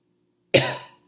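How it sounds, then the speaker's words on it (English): A single short, sharp cough, close and fairly loud, ending in a brief rasp after a moment of silence. "Next, can you cough for me? Awesome. And can you clear your throat?"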